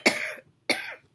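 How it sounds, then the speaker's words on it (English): Two sharp coughs, close by, separated by a brief silence. "I'm going to cough again"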